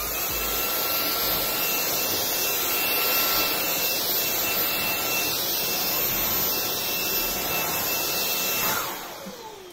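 Xiaomi Dreame V10 cordless stick vacuum running on max power, a loud steady high-pitched whine with broad airflow rush that winds down at the very end.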